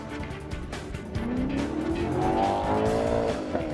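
Maserati GranTurismo MC Stradale engine revving up through the gears on a drive, a strong rising roar with climbing pitch and brief shift breaks, close and loud.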